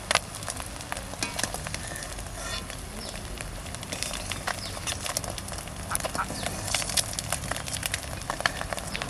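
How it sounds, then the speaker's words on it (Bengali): Duck eggs fry in foaming oil for a winter duck egg curry, giving a steady, dense crackle and spatter that runs close and loud throughout, with no talk over it. "ফটফট করে ফুটতেছে আর ওই কুসুমগুলো বেরোয় যাচ্ছে।"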